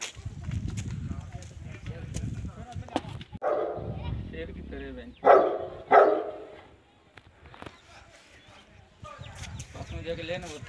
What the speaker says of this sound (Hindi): ये देखो शेर की तरह कुत्ते।